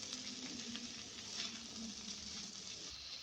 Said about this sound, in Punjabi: ਦੋਨਾਂ ਚੀਜ਼ਾਂ ਨੂੰ ਇਕੱਠੇ ਪਾ ਦਾਂਗੇ ਤੇ 2 ਮਿੰਟ ਇਹਨਾਂ ਨੂੰ ਵੀ ਸੇਕ ਲਵਾਵਾਂਗੇ